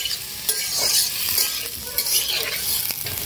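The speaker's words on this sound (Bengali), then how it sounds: "ফার্স্ট আলু, গাজর আর বিনসকে ভেজে নিচ্ছি" Potatoes, carrots and beans fry in a pan, giving a steady bright sizzle broken by repeated scraping and clattering as a utensil stirs the vegetables.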